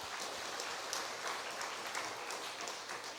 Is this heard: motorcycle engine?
no